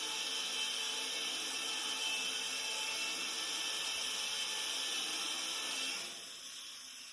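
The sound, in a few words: HyperMill machine OD beveling a tube end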